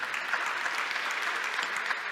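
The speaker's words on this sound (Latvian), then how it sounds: "Šie aplausi vēlreiz visiem Epale pateicības rakstu saņēmējiem." Applause at an adult education awards ceremony, dense continuous clapping from a crowd, even and sustained throughout.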